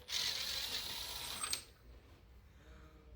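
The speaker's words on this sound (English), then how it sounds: "is this enough power to blast the axle nut off?" A power tool blasts loose the axle nut on a diesel Corolla 2C-T during engine removal prep, a close, loud mechanical burst lasting about a second and a half before cutting off to quiet workshop background.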